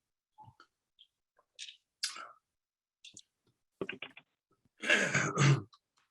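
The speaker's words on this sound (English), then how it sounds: "Get all my coughs out hopefully before we start." Several short, scattered throat-clearing sounds and small coughs, close by, ending in a louder, rougher burst of coughing.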